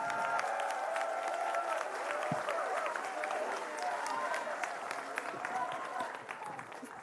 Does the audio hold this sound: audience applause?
yes